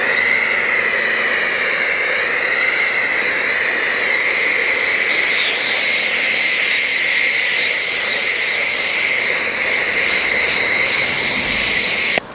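A foam gun sprays Angel Wax Fast Foam onto a Volvo XC60 outdoors, giving a loud, continuous pressurised hiss with a whining tone that holds steady for several seconds, then cuts off abruptly at the end.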